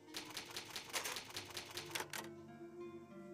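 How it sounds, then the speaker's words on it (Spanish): An in-game typewriter in Resident Evil HD Remaster clacks out about a dozen quick, evenly spaced keystrokes, then stops and leaves a soft lingering tone; crisp and close, with no talking. "Es una máquina de escribir."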